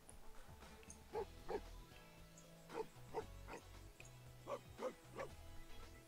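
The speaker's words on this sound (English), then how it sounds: "Let's see if we can get a bark that's quite similar." Low-pitched dog barks from The Sims 4 Cats and Dogs, repeated in spaced pairs and short clusters, fairly clear over a quiet game-menu background.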